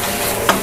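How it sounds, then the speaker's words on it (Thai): Hainanese mixed vegetables with glass noodles are stir-fried in a pan, giving a steady, close sizzle with a brief stirring scrape. "ผัดไปตัวนี้นะคุณต้องผัดเช็ดน้ำนะ"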